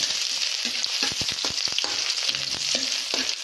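Ginger frying in a heated pan sizzles continuously up close, with irregular crackles and pops and a few light scrapes of stirring, and no talk over it.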